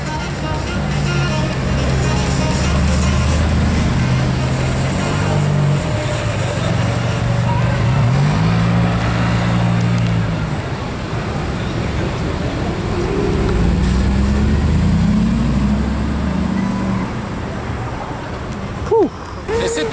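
A Mercedes SLR supercar driving at night during car spotting in Cannes, its low engine note rising and falling through steady traffic rumble, with people talking over it.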